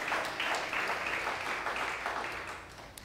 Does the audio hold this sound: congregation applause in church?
yes